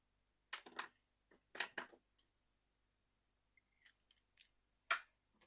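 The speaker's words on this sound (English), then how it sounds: "And then I've got my ribbon scissors." Ribbon scissors snip several times in short, crisp bursts, with quiet pauses between the cuts and a few soft clicks, close and fairly faint.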